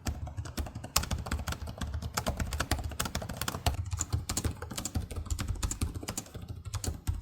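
Rapid, continuous typing on a gaming laptop keyboard, close and crisp, with dense overlapping key clicks and no talking.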